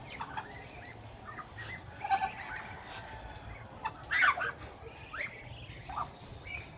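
Ducks being fed on a rural farm in Mindanao, with scattered bird calls rising over a steady outdoor background; a few louder bursts of calling stand out now and then.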